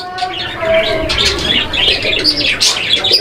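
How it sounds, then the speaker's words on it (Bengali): Racer pigeons cooing close by in a pigeon market, with overlapping throaty coos and soft chirps running continuously and loudly. "আরও একজোড়া কবুতরের কালেকশন এটা হচ্ছে মাক্সি কালারের রেসার কবুতর"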